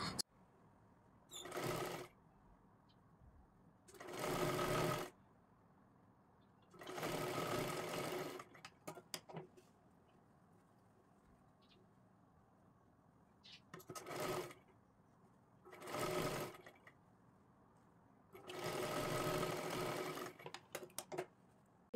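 Domestic sewing machine stitching a blouse lining, running in six separate bursts of steady whirring a second or two long, with quiet pauses between runs.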